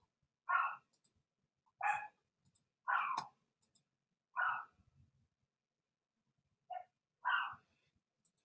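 Several dogs bark excitedly in short, sharp bursts, about six barks spaced irregularly over several seconds, fairly close, with quiet gaps between.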